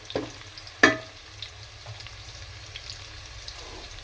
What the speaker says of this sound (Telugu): ఆనియన్స్ వేగుతున్నాయి, మరి